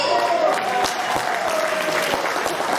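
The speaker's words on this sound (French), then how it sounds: "On l'applaudit bien, bien fort." An audience at a Christmas entertainment event with Santa and Mrs. Claus claps for a woman who won the first prize, steady applause with a voice carrying over it.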